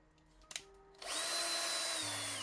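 A power drill spins up and bores a hole in a custom Lesney No. 47 Trojan van die-cast model, a loud steady whine after a couple of small clicks, with the motor pitch dropping partway through.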